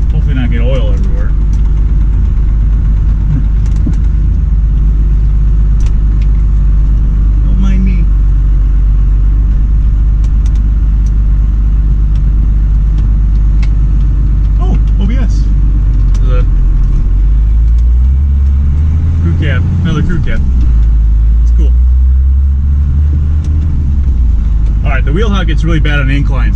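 A Ford F-350 diesel truck engine pulling up an incline, a loud steady low rumble from inside the cab with a rise in engine note partway through, while a person talks over it.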